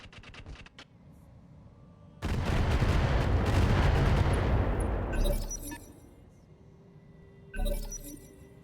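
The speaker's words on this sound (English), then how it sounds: "Firing on target" Mech weapons firing on a target in modded Roguetech Battletech, a sustained roaring barrage of cannon and artillery blasts lasting a few seconds, then a short crackling impact burst near the end.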